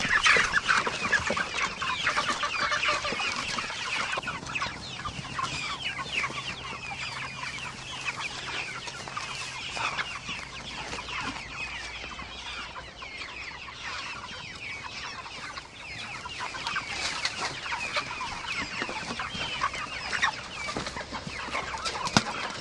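A flock of farm chickens clucks and chatters around freshly scattered feed, a busy, overlapping stream of close, fairly loud clucks and squawks that carries on steadily with no talk.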